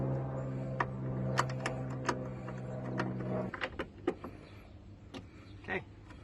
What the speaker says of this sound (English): And now we can put the screws in.